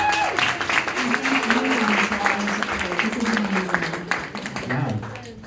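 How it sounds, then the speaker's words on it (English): Audience applause at a panel discussion for the television series The Cleaning Lady, sustained clapping from a crowd with a voice speaking over it throughout. "we applaud all of you on the work"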